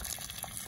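Water draining out of the opened low-point plumbing valves in a storage compartment of a truck camper, a short continuous splashing, gushing flow heard up close.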